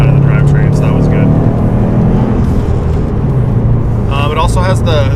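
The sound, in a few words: Subaru STI intake and bypass valve, COBB intake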